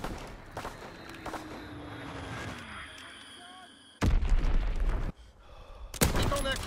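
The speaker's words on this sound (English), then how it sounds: "Dropping Fritz X bomb." Sequence of booming blasts and gunfire from a Fritz X bomb strike in the Call of Duty WW2 video game, with loud broadband bursts near the end following quieter battlefield noise.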